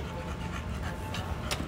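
A small dog pants in quick, steady breaths close by, soft but continuous throughout.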